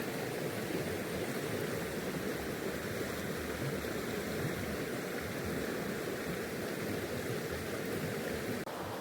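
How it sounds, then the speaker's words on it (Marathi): Water rushes continuously, a dense, even roar of the deep Golka river in a Konkan forest, with no voices, holding steady from start to finish. "मित्रांनो माझ्या मागे जी आहे ती गोलका नदी आहे"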